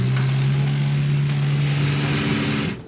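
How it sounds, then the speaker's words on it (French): Car engine held at full throttle while stuck in sand, a loud, steady droning roar that cuts off abruptly near the end. "Maintenant, avec le moteur à fond, il faut pousser, et fort, pour essayer de décoller et sortir la voiture du sable."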